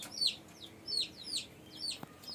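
Native farm chickens, including a hen with a small chick, make soft, quiet calls, about four brief downward chirps spaced across a couple of seconds over faint background.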